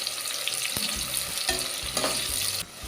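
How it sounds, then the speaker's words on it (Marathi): Onions frying over high heat in a pan for chicken biryani, a steady loud sizzle throughout with a few sharp stirring scrapes, dropping off near the end. "थोडा थोडा हा आपण कांदा घालून तळून घेऊया"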